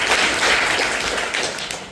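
Audience at a seminar clapping in a dense, steady burst of applause that fills the room for the whole stretch.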